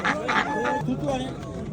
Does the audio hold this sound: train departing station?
no